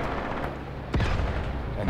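Gunfire aimed at tanks in the Graviteam Tactics Mius Front war game: a single sharp report near the middle, standing out over a steady rumble of battle noise.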